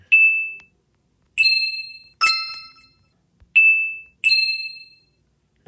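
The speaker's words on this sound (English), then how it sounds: "The bell sound." Bright bell chimes from an editing app's sound effect ring out alone in clean silence, five separate dings with ringing decays, struck in two quick pairs around a higher clang.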